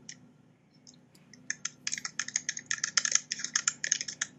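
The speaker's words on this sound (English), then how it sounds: "Someone is typing, which is great, but if you are typing, it'd be also good to mute your microphone so that the typing sounds don't get picked up" Computer keyboard typing picked up over a call microphone: a fast run of light clicking keystrokes in irregular bursts, quiet and slightly distant, with no talking.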